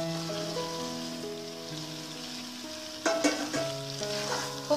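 Pre-fried raw jackfruit goes into a hot pan of spiced potatoes: after a low steady hiss, a sudden louder burst of sizzling and crackling erupts midway and continues, with sustained tonal music in the background.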